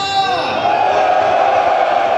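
Crowd of men at a Wings for Life World Run event shouting and cheering loudly together, a sustained roar swelling after a brief rise and holding strong to the end.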